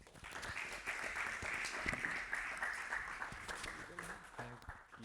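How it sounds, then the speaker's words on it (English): Applause from an audience at a Cloud Native Aarhus meetup, a steady wash of clapping filling the room at moderate level for the whole stretch, with some voices murmuring underneath and a voice near the end. "Give him a big round of applause."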